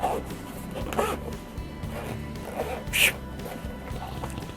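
Zipper pulled open on a Synco G1 wireless microphone hard case, a short rasping zip near the three-second mark amid faint handling noise, with someone talking around it.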